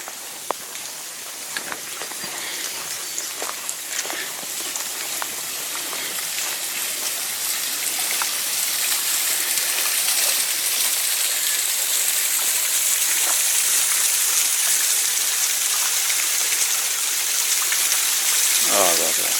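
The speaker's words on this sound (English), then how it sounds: "Oh, I can hear the moving water." Moving water of a stream along the E&N Railway trail between McLean Mill and Beaufort Slope, a steady broadband rush that swells gradually and holds continuous, with faint footsteps and brief vocal sounds from a hiker near the start.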